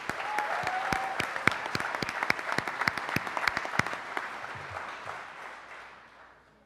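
Applause from an awards ceremony audience honouring Spinnaker Award recipients: a dense, steady crowd clapping that holds for several seconds and then gradually fades away.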